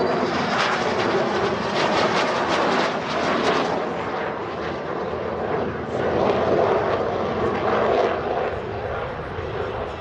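A French Navy aircraft making a slow flypast at the La Ferté-Alais air show, a steady loud engine roar sustained throughout, with the broad wash of the open airfield behind it.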